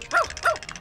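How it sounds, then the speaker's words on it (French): A cartoon robot hot dog gives two quick, bright yapping barks in a row, close and fairly loud. "C'est le robot hot dog plus connu sous le nom de jeune chien chaud qui aboie."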